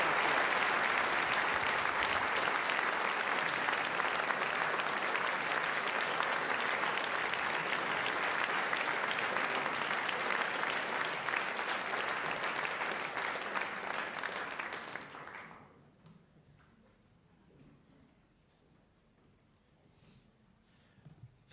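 A large audience at a debate applauds as the debaters are welcomed to the stage, a dense, sustained roar of clapping that holds steady for about fifteen seconds before cutting off to near silence.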